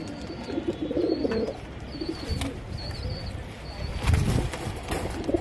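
A pair of pigeons coo repeatedly at close range while someone speaks intermittently over the low, rolling calls.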